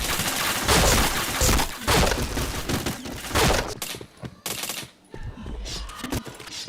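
Rapid automatic gunfire from a first-person video game shooter, with loud bursts of overlapping shots and short pauses between volleys, close and dense throughout.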